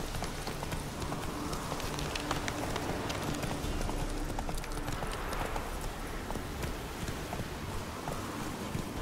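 Geralt's horse Roach galloping in The Witcher 3, a steady rapid clip-clop of hooves running continuously at close range under a busy ambient background.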